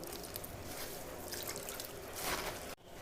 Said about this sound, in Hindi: ये पानी डाल के इसका मैं पेस्ट बना रही हूँ बेसन का।